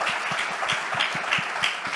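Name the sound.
applause for the Bal Vikas play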